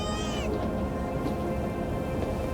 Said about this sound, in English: Oh, we got the cat.